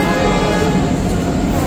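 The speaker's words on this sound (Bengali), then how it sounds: "দেখুন ট্রেন আসছে একটা।" A train arriving at Mathura Junction station, a loud, steady rumble with a faint horn-like tone over it, heard close on the platform without talk.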